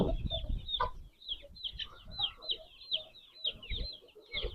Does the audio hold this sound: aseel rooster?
yes